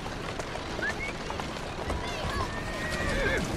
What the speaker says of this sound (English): Off you go, horsey, wherever you like.